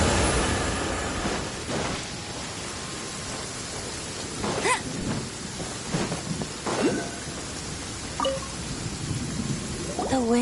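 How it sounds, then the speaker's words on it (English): Rain falls steadily in Genshin Impact as a constant hiss, with scattered brighter tonal game effects and sweeps cutting through at intervals. "It's raining again."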